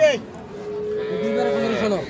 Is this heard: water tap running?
no